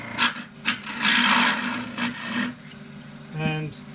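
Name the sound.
turning tool cutting wood bowl on lathe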